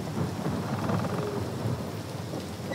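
Steady rain and rumbling thunder in the video game Tell Me Why, a dense, continuous storm wash that stays loud and unbroken throughout, with no voices.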